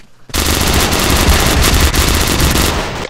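Sustained automatic gunfire from a video game shooter, a dense, continuous loud burst of machine gun rounds lasting nearly the whole stretch with no voices.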